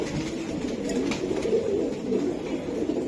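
A black female racer pigeon coos in a steady, low, rolling murmur close by, with other birds faintly around it and no talk.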